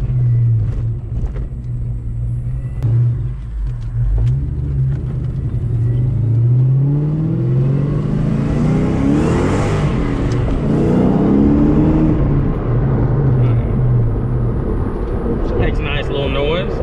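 A 1998 Mustang Cobra with a Kenne Bell supercharger drives past and revs hard, its deep engine rumble climbing in pitch under acceleration, loud and close with steady road noise.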